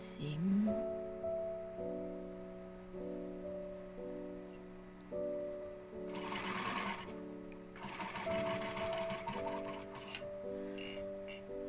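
A sewing machine stitching a joey pouch seam in several start-stop runs, its motor hum steady and moderately close, with bursts of rapid needle clatter.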